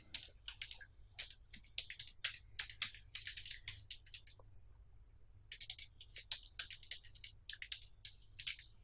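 An address is typed on a computer keyboard in quick, light bursts of key clicks, then a brief pause before a second run of rapid taps, quiet and close with no voices.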